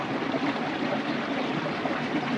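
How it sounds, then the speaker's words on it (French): Water trickling at the source of the Tarn river, a small stream giving a steady, even babble close by with no voices over it. "Vous entendez sans doute derrière moi le coulis de l'eau."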